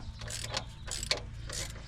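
A ratchet wrench clicks in several short bursts while spark plugs come out of a 1993 Ford F150 engine, quiet and close, with brief pauses between the runs of clicks.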